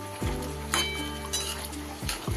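A lid comes off a pot of simmering chicken in a home kitchen, giving a few close metallic clinks and a scrape of metal against metal over a steady low hum, with no talking.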